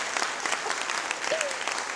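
A studio audience applauds on a TV show set, steady dense clapping throughout with a brief voice cutting through near the end.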